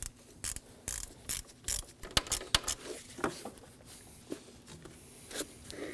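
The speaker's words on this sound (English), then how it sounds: "Now we can go ahead and tighten down the clamp for the throttle body." A clamp on the throttle body of a 2009-2014 Ford F-150 3.5L V6 is tightened with a ratchet: quiet, irregular clicking and metallic ticks, close by, with brief pauses between bursts.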